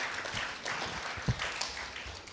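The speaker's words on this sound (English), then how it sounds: "If you want to clap, please clap." Lecture audience clapping, a scattered, fairly quiet round of hands from a seated crowd with a few sharper claps standing out, continuing for a couple of seconds.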